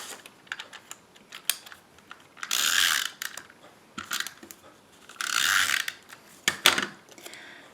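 A Stampin' Up snail adhesive tape runner rolls tape onto cardstock in two short, ratcheting bursts, close and fairly quiet, with faint clicks and handling taps around them.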